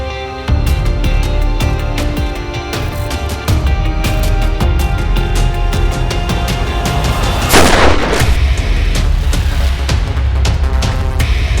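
Loud gunfire crackles continuously, dense repeated shots and blasts over a rumbling background, with one sharper burst midway.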